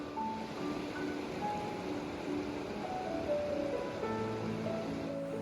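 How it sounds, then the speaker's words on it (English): A glacial river flows through a mountain valley near El Bolsón, Argentina, giving a steady, moderately distant rushing wash of water that stays even throughout with no talk. "The river cuts through the valley with a serene power"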